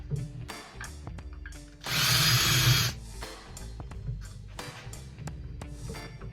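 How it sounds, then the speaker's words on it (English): Power drill boring a hole for a pocket shelf bracket in a truck, with a loud high whine lasting about a second between scattered clicks and handling knocks, close up and without speech. "and it drills a hole right in the center"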